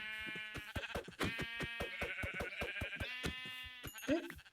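A video game sheep bleats repeatedly in a long, wavering call, loud and close, with a few short clicks scattered across it.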